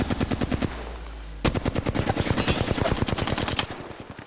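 Gunfire in a video game: rapid, evenly spaced automatic bursts, loud and close, stop briefly, then resume with a longer sustained volley. No one talks over them.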